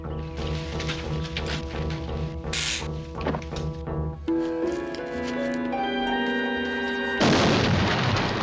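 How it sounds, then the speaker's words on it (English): Explosion in a Wonder Woman TV episode: a grenade blast erupts late as a loud, dense burst of noise over the closing seconds, following tonal music and scattered thuds. "Get clear! Grenade!"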